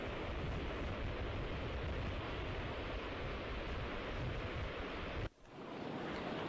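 Waves wash onto an Atlantic beach in a dense, roaring hiss of surf with some wind, steady and loud, then dropping briefly before building again.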